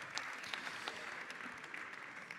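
A crowd at a French political party congress applauds, a faint, distant, even patter of many hands with a few sharper claps standing out, no speech over it.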